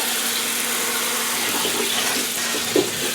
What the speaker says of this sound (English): Rinse them in cold water.